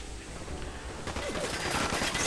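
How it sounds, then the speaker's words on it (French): A double-barrelled shotgun firing in Fallout 4, a dense burst of loud cracking gunfire building over a couple of seconds, harsh and close. "Fusil à double canon."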